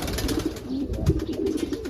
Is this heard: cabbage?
no